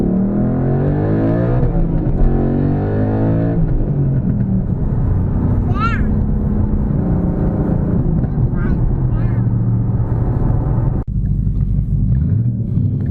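A 2012 Ford Mustang Boss 302 engine rumbles steadily and loud while driving, a deep continuous drone that rises and settles with throttle, with a brief break near the end before the note picks back up.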